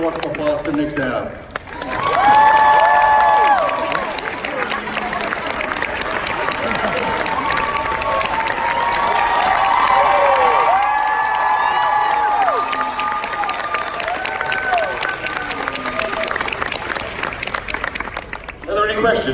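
A convention panel audience at Dragon*Con 2019 applauds and cheers a guest. Sustained crowd clapping and scattered shouts run through the whole stretch, rising and falling, with voices and whoops layered over it.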